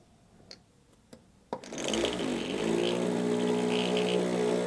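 A vortex paint mixer spins up after a few faint clicks, its motor settling into a steady, loud whirring hum as it mixes paint, close and with no talk over it.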